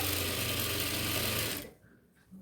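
A sewing machine runs steadily, stitching a folded half-inch hem on nighty fabric for about one and a half seconds, then stops abruptly, leaving near silence with a faint click at the end.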